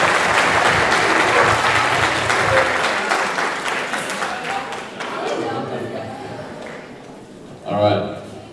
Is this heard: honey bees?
no